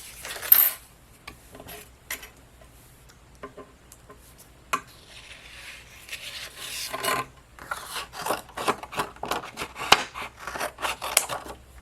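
Paper for a birthday card is cut and handled close up, with intermittent scraping and rubbing strokes that build into a busier run of rasping cuts toward the end.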